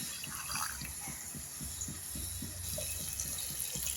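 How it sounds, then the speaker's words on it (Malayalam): Water is poured into a freshly washed mixer-grinder jar while cooking sardine curry, making a faint, soft splashing with light rhythmic pulses close by. "ജാറൊക്കെ കഴുകി അതിൽ ആ വെള്ളം ഒഴിച്ചു കൊടുക്കാം."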